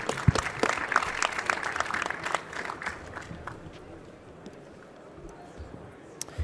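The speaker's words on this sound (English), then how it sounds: "let's give this team a round of applause" Audience applause for a presenting team at a conference poster session, a scattered patter of clapping that starts fairly strong then thins and fades out, with a voice briefly heard over it.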